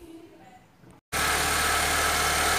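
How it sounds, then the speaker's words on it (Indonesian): A Honda Civic FD car engine starts after a brief quiet gap and settles straight into a loud, steady idle with a constant low hum and broad mechanical noise, with no talking over it. "Sekarang saya nyalakan dulu mesin mobilnya."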